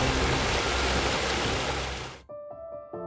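A fire hose sprays water onto a burning car: a loud, dense, continuous hiss and rush that cuts off abruptly, leaving faint tonal hum and clicks.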